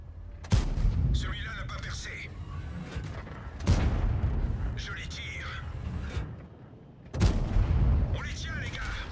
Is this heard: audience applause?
no